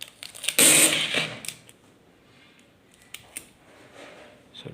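Sharp mechanical snip from a zCut-9GR automatic tape cutting machine, one loud close cut followed by a few fainter clicks and quiet handling noises.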